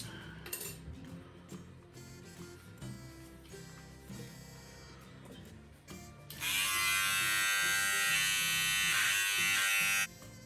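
After some clinks and handling noises, an electric beard trimmer switches on and buzzes loudly and steadily for several seconds while trimming a moustache, then cuts off.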